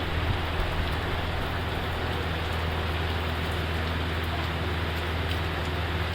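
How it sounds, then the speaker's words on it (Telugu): Continuous, even roar of heavy rain, a constant dense wash of sound with no talking over it. "వర్షం అయితే జోరుగా కురుస్తుంది"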